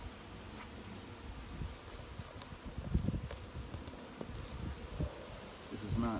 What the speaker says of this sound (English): this is not a very big group of bees